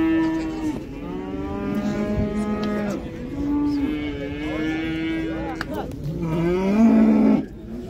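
A cow at a livestock bazaar gives several long, loud mooing calls close by, with a final rising bellow, while people talk faintly in the background.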